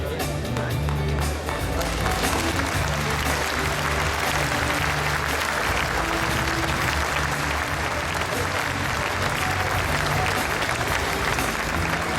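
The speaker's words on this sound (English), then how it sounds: "Big applause to Ed" A crowd claps loudly and continuously at the closing ceremony of a Lions club international convention in Sydney. The applause is dense and sustained, with no break.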